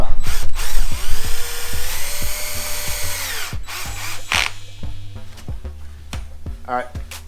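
Power drill driving screws while fitting an LED auxiliary light kit on a Can-Am Ryker, loud close whirring bursts with a long run, then shorter pulses and clicks, with people talking.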